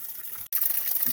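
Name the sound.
water being collected from a stream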